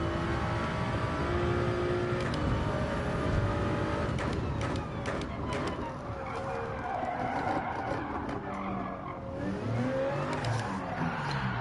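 Race car engines at full throttle in Gran Turismo 7 Daily Races in PSVR2, a sustained close engine roar with rising and falling pitch sweeps as cars slipstream together, steady and loud throughout.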